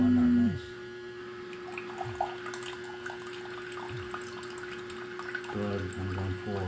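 Water runs in a thin stream from a tap with faint drips, alongside a steady mains hum and a low tonal drone that returns near the end.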